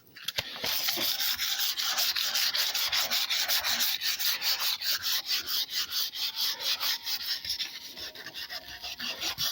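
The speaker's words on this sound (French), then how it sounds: "il faut poncer tout le haillon complet" Hand sanding of the tailgate of a black Peugeot 306 before painting, a continuous close rhythmic rasping of strokes back and forth, loud and steady with no talk.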